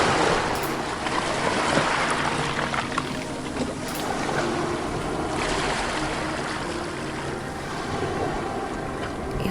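Ocean waves roll and break near the shore, a rushing wash that rises and falls in a few slow surges over a constant background hiss, with no talking.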